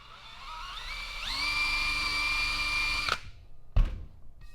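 A power drill fitted with an abrasive wheel whines steadily at high pitch while brushing the face of a three-piece car wheel, rising in speed, then cutting off abruptly, followed by a brief clunk.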